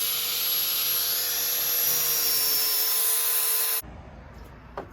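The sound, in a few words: grinder cleaning corrosion off coolant hose fitting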